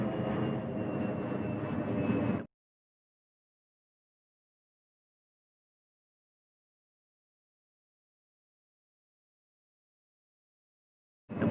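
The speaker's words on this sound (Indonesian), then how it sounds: "Ada pesawat guys." An airplane passes overhead in Surabaya, a steady broadband engine roar for about two seconds before the sound drops out to silence, returning briefly at the very end.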